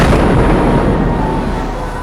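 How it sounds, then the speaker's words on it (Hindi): A loud explosion during Friday prayers in Tehran fills the scene with a dense, roaring broadband rumble that holds steady for about two seconds, with no speech over it. "उसी वक्त एक भयानक धमाका होता है"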